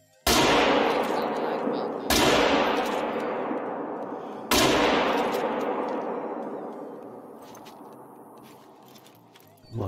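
Loud long-range hunting rifle shots ring out in theHunter: Call of the Wild, three sharp cracks each trailing off into a long rolling echo across open terrain, with no talk.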